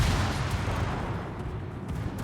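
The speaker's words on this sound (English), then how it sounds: "And we should get 2 airstrike hits on the submarine here" Airstrike explosions hit a submarine in a naval warfare video game, a dense continuous low rumble of booms and gunfire-like blasts, loud and steady for a couple of seconds.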